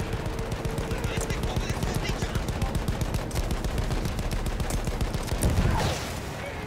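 Rapid sustained gunfire from a Battlefield 1 battle, dense bursts of shots repeating steadily throughout, loud and close, with a heavier blast near the end.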